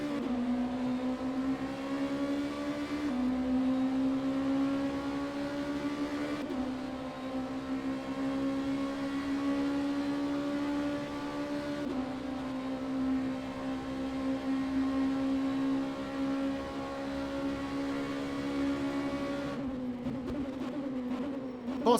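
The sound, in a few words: Oreca 05 Nissan V8 LMP2 car engine, racing video game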